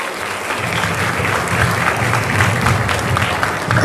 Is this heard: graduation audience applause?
yes